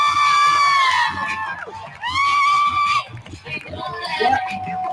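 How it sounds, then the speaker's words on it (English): People cheering and shouting during a trial's live coverage, loud high-pitched voices rising and falling in sustained bursts across several seconds. "There's people cheering."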